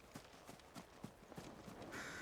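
A horse's hooves in the video game Final Fantasy XVI clip-clop in an even, steady walking rhythm, faint and muffled under a low background wash.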